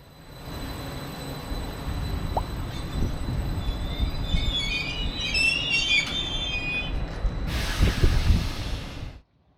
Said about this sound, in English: Our actual train is now, as announced, pulling into platform number 12